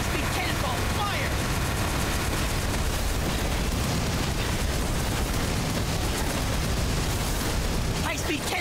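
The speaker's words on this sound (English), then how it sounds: "High-speed cannonball, fire!" Cannon Master skills firing cannonballs in MapleStory during the Hard Lotus boss fight, a dense continuous wall of booming blasts and explosions, loud and unbroken, with a short burst of effects at the end.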